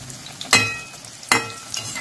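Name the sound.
onion-potato bhaji deep-frying in oil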